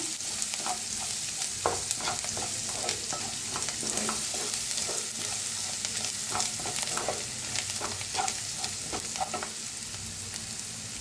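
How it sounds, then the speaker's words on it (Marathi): Coriander roasts in a pan while a spoon stirs it, producing a steady close sizzle broken by frequent scraping clicks against the metal. "ह्याच्यात टाकायची कोथिंबीर आणि ह्याला जरा भाजून घेऊया."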